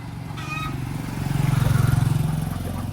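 A motorcycle carrying three people, two of them kids, passes along a street in Siquijor, its engine putter building louder and closer mid-way before easing off, with faint street noise around.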